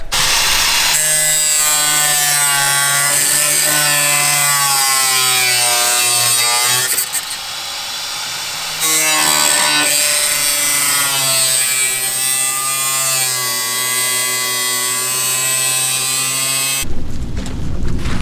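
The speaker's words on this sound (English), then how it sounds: "Officially cut into the body." A tool cuts into the body of a Honda Crosstour, giving a loud, steady harmonic whine that runs continuously, dips briefly midway, then resumes before stopping near the end.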